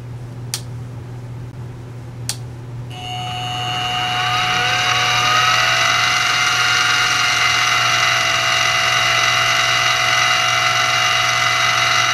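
An X2 mini milling machine, with WD-40 used as coolant, starts up after two sharp clicks and settles into a loud, steady mechanical whine with a constant low hum beneath. No one speaks.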